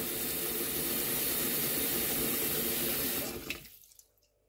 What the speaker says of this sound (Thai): จะเปิดน้ำเย็นใส่เลยนะคะทุกคน